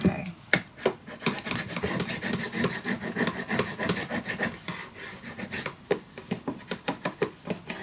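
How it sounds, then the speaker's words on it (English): A burnishing tool is rubbed firmly over paper on a steampunk Christmas letter craft project, a run of quick raspy strokes in bursts, with a brief voice partway through. "Burnish everything down."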